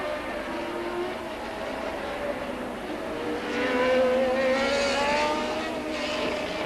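Formula 1 cars from the 1981 season scream past in a tight pack with Villeneuve's Ferrari, rising and falling whines overlapping, loud over a steady roar, no voices.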